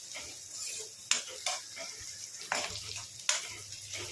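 Green chillies, onion and curry leaves fry in a pan with a soft steady sizzle, broken by a few sharp stirring clinks and scrapes.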